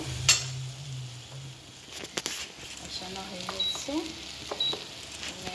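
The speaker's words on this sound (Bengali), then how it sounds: "মাছের মাথাটা ভেজে রেখেছিলাম আর দিয়ে দিলাম" Fried fish head going into a pan of sizzling ginger-garlic masala, with a soft frying hiss, a few utensil clinks and scraping stirs, and a voice talking faintly underneath.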